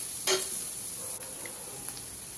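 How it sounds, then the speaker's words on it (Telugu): Spinach frying in oil with turmeric and salt for a garlic-chili palak dish, a soft, close sizzle with light stirring scrapes and a brief clink of a utensil against the pan, no voices. "కొద్దిగా పసుపు, రుచికి సరిపడా ఉప్పు కూడా వేసేసి మరి కాసేపు వేయించుకోవాలి."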